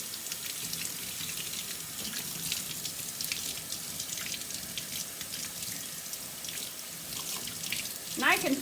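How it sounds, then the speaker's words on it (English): Tap water runs steadily into a sink while milking equipment lids are rinsed inside and out, a continuous close splashing wash with small knocks near the end. "I'm going to rinse off the lids, making sure to get the inside and outsides."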